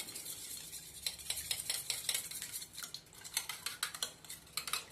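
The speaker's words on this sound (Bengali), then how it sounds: "ডিমটাকে ভালো করে ফেটিয়ে নেব।" An egg is beaten with a spoon in a bowl, giving a run of quick, light clinking taps at close range, with no talking.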